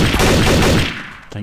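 Desert Eagle pistol fire in Garry's Mod Trouble in Terrorist Town, a loud burst of heavy gunshots in quick succession that rings out and decays, followed by a short quieter click.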